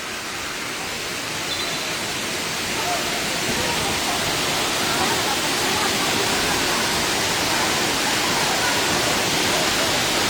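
Water pouring down from above in a waterfall makes a loud, steady, continuous roar that fills the scene and stays constant throughout.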